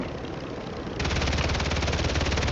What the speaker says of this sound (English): I don't know from where is shooting.